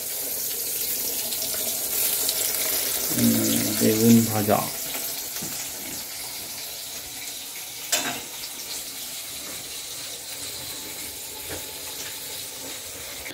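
Tap water running steadily in a home kitchen while meat is washed, a constant hiss with a short burst of talk partway through and a brief clatter later.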